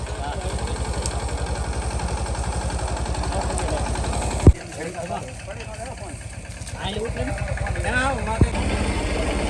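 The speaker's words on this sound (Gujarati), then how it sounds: "ખોટિયાને કાઢવા ટ્રેક્ટર આવેલું છે." A tractor's diesel engine idles with a steady low throb, a sharp knock partway through, while people talk over it during a bull rescue.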